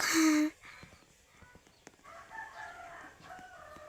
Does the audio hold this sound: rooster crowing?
yes